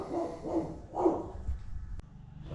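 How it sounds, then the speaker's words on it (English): A dog barks repeatedly at a postman, several loud close woofs in an uneven rhythm followed by a sharp click and quieter background. "Bloody dog's going off their chops at the postie."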